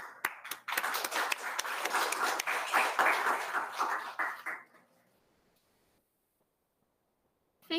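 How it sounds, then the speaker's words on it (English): An audience at a sister-city anniversary ceremony claps for about five seconds, a dense burst of applause that fades out into near silence. "Please give her applause"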